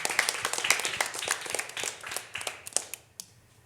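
A group of children clap together indoors in a quick, uneven burst of many hands, loud at first, then thinning out and fading over a few seconds.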